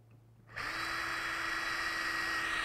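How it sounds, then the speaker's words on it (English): A power drill starts up after a brief quiet moment and runs steadily with a high, whining buzz, close by and continuous, drilling holes in Kydex sheet for a knife sheath. "When you're drilling, you want to make sure the drill goes straight through."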